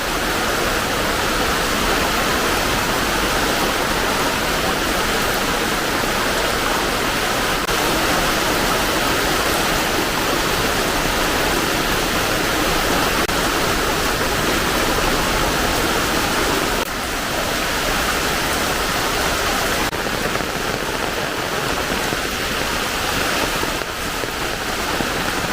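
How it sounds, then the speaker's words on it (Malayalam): Heavy rain pours down in a dense, unbroken roar that stays loud and steady throughout, with no voices. "ഭയങ്കര മഴയാണ്. കുറേ നേരമായി തുടങ്ങിയപ്പോൾ."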